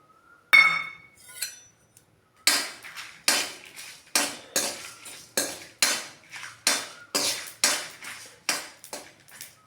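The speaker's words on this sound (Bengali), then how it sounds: "এই যে এখানে আমি শুকনো খোলাতে শুকনো লঙ্কা দিয়ে দিয়েছি, এগুলো ভেজে নিব" Dry red chillies, coriander and cumin being roasted in a dry pan, heard as a rapid series of sharp metallic scrapes and clinks of a utensil against the pan, regular strokes close by after a short pause.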